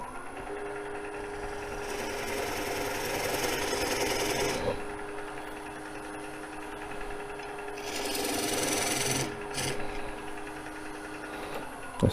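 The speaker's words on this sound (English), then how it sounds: "Get the skew, I'm going to go right in here to make a little dovetail side to that and flatten the bottom." A skew chisel shears across a spinning rainbow poplar bowl blank on a wood lathe, forming a dovetail and flattening the bottom: a steady close scraping rasp over the machine's hum, swelling in two longer bursts.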